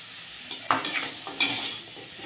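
Spoon stirring drumstick stalks coated in a ground white poppy and mustard paste in a pan, a few soft scraping strokes with a faint sizzle beneath, close and fairly quiet.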